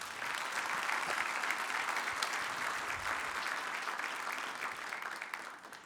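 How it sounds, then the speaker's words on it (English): An audience at an advertising industry conference applauds, a dense, steady wash of clapping from many hands that holds evenly for several seconds before tapering slightly. "Let's give a quick round of applause to the 4A's,"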